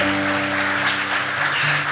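Church congregation applauding during a worship service: a steady, diffuse wash of many hands clapping throughout, with sustained musical tones underneath.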